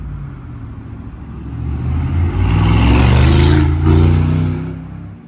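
A vehicle pulls up on a hot, sunny day near the Al Abra boat area in Dubai. Its engine rumbles steadily, grows louder as it draws near and then eases off, with no voices over it.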